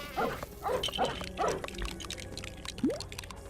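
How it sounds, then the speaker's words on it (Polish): A dog digging a hole in the Lego Harry Potter video game, a quick series of four or five chirpy, bouncing cartoon scrape-and-pop sounds followed by a lone rising blip, game music underneath. "Pieseł całą dziurę taką dużą wykopał w 5 sekund."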